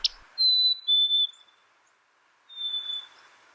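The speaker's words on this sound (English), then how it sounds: "a chorus of birds welcoming the new day" A few birds calling at dawn: two or three thin, clear whistled notes close together, a pause of quiet, then another drawn-out whistle, sparse rather than a full chorus.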